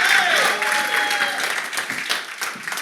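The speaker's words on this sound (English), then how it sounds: "Let's have a nice round of applause for Siva." An audience claps for a guest speaker at a talk, a dense burst of applause that starts loud and gradually thins out over a few seconds.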